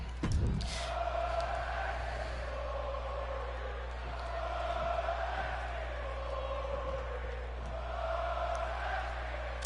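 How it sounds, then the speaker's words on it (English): A wrestling arena crowd in the WWE 2K22 video game roars and chants in a steady swelling wash of voices, with rhythmic rises and an intro hit at the start. "The crowd chanting, "Oh, bask in his glory!""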